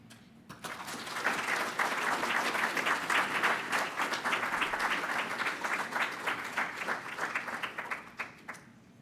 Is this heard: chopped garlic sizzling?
no